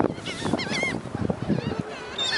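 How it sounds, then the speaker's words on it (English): Geese or similar fowl honk over one another while feeding, a busy, overlapping chorus of nasal calls heard up close and fairly loud. "Meanwhile, the birds are eating."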